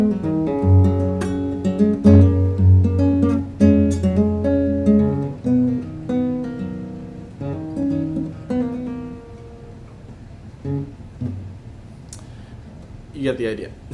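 A guitar plays the intro of a song as plucked and strummed notes in a steady rhythm, loud and close, tapering off into a few scattered notes and handling noises.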